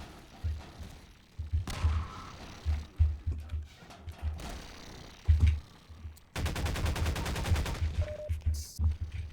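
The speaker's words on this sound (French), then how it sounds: "J'utilise des grosses munitions qui sont pétées pour ouvrir les caisses." Gunfire in the video game Half-Life 2, heavy rounds fired to break crates open, a string of punchy gunshot bursts and thuds with a short rapid volley, alongside game effects.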